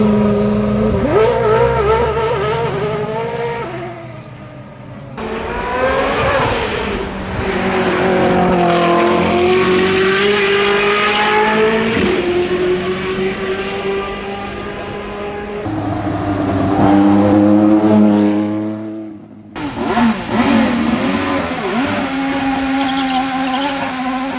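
A new Ferrari F80 driven flat out, its engine and exhaust screaming through hard accelerations with rising revs, brief lifts and gear changes, loud and close, with some tire noise and no talk.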